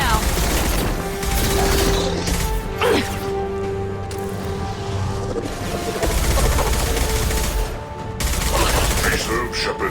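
Rapid bursts of gunfire and heavy impacts fill a Mass Effect 2 battle, loud and close, with shots stacking into dense volleys while voices speak over the combat.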